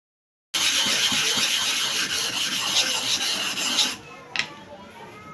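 A file rasps across the bottom blade of a hair clipper, sharpening it with single-sided downhill strokes. Close, continuous scraping lasts about three and a half seconds, then stops, and a faint metallic click follows.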